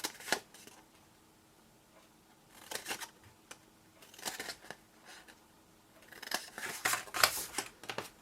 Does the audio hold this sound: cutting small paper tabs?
yes